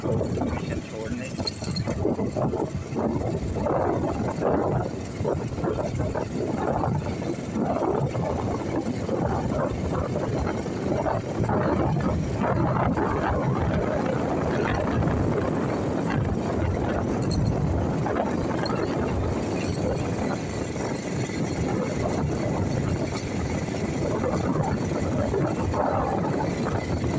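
Steady motorbike ride on a road with children aboard on the way to tuition, a continuous engine drone mixed with heavy wind buffeting the microphone throughout, loud and unbroken for the whole stretch.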